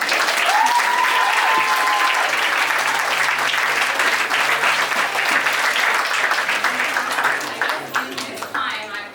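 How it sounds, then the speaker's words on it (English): Audience applause for dance students at a showcase, a loud, sustained roar of many hands clapping, with a voice calling out briefly near the start, tapering off toward the end. "a big round of applause for all of the students"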